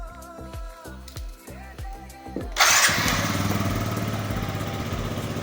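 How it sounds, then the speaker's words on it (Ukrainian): A small Yamaha Jog scooter engine starts up with a sudden roar and then keeps running at a steady, even idle. "Двигун не димить, нічого. І працює сплавно."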